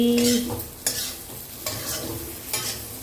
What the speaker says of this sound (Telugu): చూడండి, 3 స్పూన్స్ ఆయిల్తో కాకరకాయ ఫ్రై